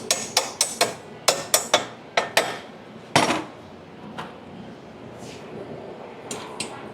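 Small hammer tapping a Harley-Davidson Sportster motor into place in a Led Sled frame: a run of about a dozen sharp metallic knocks in irregular groups, one heavier blow, then a few fainter taps, close by and with no talk.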